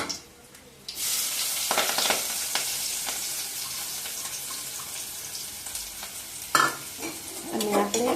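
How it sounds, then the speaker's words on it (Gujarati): Onions hit hot oil and sizzle loudly as a spoon stirs them around the pan, the frying hiss steady and close with scraping clinks and bursts of stirring throughout. "આપણું તેલ થઈ ગયું છે ગરમ. તો હવે આપણે પહેલાં તો ડુંગળી નાખી દેવાની છે."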